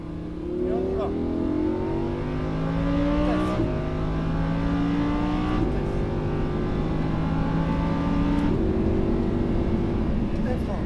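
A Lamborghini Huracán lapping the Fay de Bretagne track, its engine loud and close as it revs up through several gears, the pitch climbing steadily then dropping at each shift before rising again.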